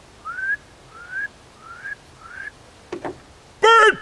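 Four rising whistled notes from a person during a comedy act, each short and evenly spaced, followed by a couple of brief low thumps and a final loud harmonic burst like a voice.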